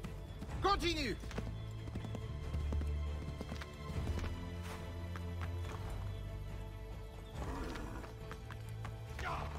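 Horse hooves in Assassin's Creed 3 clop along at a galloping pace with a brief whinny early on, while people talk over the steady, fairly faint hoofbeats.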